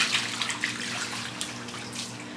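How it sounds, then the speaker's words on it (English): Water dumped out of a tortoise's soaking tub, a steady close splashing pour that keeps going for a couple of seconds with no voices. "just go on ahead and dump the water out"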